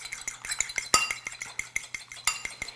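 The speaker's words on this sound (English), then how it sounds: "I have an egg that I've cracked, and I'm just gonna whisk up this egg." A fork whisking a cracked egg in a bowl for egg wash, quick rhythmic clinking taps of metal on the dish, close and clear with no talk.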